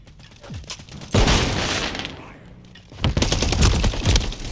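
Call of Duty gameplay brings several loud bursts of rapid gunfire, the first running about two seconds and another starting about a second after it ends, with softer battle noise in the gap.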